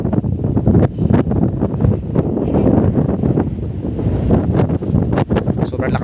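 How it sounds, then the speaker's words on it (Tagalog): Strong wind gusting through a forest, a loud continuous roar and buffeting against the microphone with irregular gusty bursts, no voices over it. "Sobrang lakas ng hangin."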